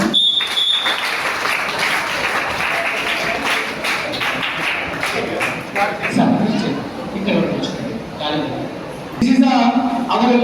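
Students and an audience clap together at a school event where uniforms and textbooks are handed out, a dense, steady round of applause lasting throughout with a slight swell near the end.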